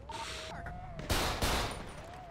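Gunshots in GTA 5 roleplay, two loud close bursts of gunfire in quick succession over a steady background hum and faint game tones.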